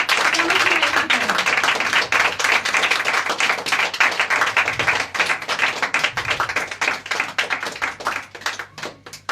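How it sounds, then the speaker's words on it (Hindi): Congregation clapping in church during a worship service, loud and brisk at first with individual hand claps audible, thinning into scattered, more distinct claps toward the end. "एक बार जोरदार तालियां हमारे परमेश्वर के लिए"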